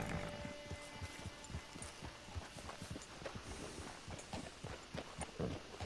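Horse hooves clop at a steady walking rhythm on the ground in the video game Red Dead Redemption 2, distinct repeated hoofbeats heard fairly close over a soft ambient background, with no talking.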